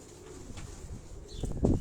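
Pigeons on a Karachi rooftop give low, soft cooing, faint at first and then a louder burst of cooing near the end, close by over quiet background noise.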